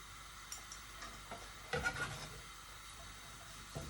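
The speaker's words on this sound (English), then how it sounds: "we're going to take our onions and garlic straight into the pan" Onions and garlic hit olive oil in a pan and start frying with a soft sizzle, with a clatter of stirring and a pan knock near the middle and fainter scrapes around it.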